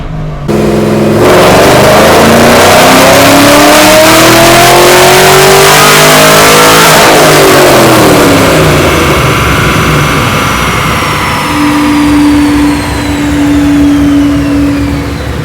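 A car engine revving in third gear on a Dynocom dynamometer, a loud, sustained roar that climbs steadily in pitch, eases off, then settles into a high steady whine as the rollers spin down.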